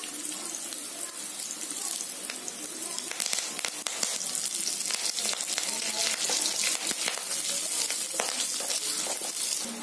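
Curry leaves hit hot oil in a pan while cooking peru upma, a bright sustained sizzle and crackle that grows steadier and louder, with faint stirring clatter.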